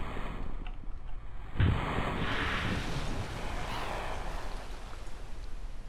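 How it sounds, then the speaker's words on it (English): Spacecraft splashdown in water in the video game Kerbal Space Program: a sudden low impact followed by sustained broad watery, wind-like rushing that fades slowly. "A nice little splash."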